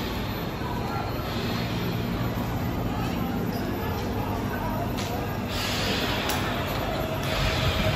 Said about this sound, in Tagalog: Yan yung sinakyan naming tren.